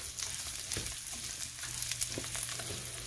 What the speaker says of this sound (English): Right now we're over high heat and you want to keep stirring it